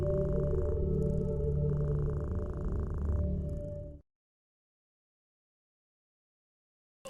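A cat purrs steadily and fairly loudly for about four seconds, a continuous low rumbling drone that then cuts off abruptly into silence.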